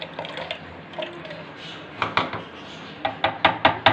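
Plum soaking water runs into a grinder jug, a soft pouring trickle at first, then a run of sharp clinks and splashes near the end, close and fairly quiet.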